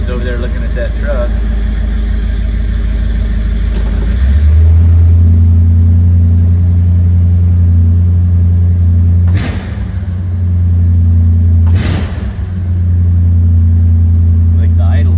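Old Jeep engine idling close by, a steady low rumble that rises to a higher, fuller idle partway through, with brief louder bursts as it runs on; someone talks over it at times.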